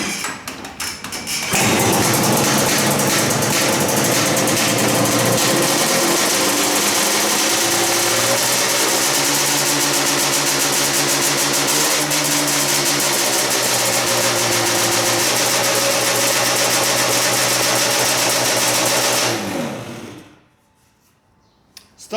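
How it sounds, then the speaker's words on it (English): A Yamaha Banshee ATV's two-stroke engine with Mikuni carburetors starts up and runs loudly at high revs for about twenty seconds, buzzing steadily with slight pitch shifts, then cuts off abruptly. "now I'm going to start firing the engine, and I'm pretty sure it will fire."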